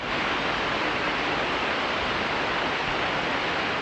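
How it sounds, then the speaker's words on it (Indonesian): Lake water gushing through the Putrajaya dam spillway, a loud, steady, broadband roar of pouring water, unbroken and close, with no voices. "Bunyi air yang mencurah-curah ni sangat mendamaikan"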